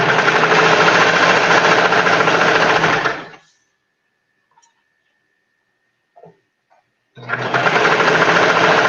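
A sewing machine stitches fabric in two loud, close, steady bursts of rapid whirring, separated by a few seconds of near silence with faint small clicks.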